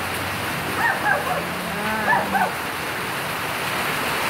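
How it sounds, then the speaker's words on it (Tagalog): Steady afternoon rainfall along a street hisses in a continuous wash, growing heavier, with a person speaking briefly over it partway through. "Lumalakas na ang ulan."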